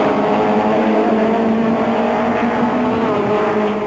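BMW and Opel touring cars race into a hairpin at East London in 1994, a loud continuous engine roar with layered harmonic whine as cars brake and jostle for position, steady and close throughout.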